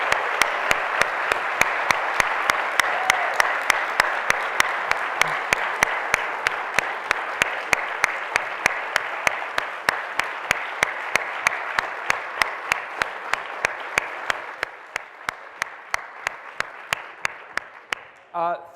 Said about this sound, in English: let's have a big round of applause for both of our candidates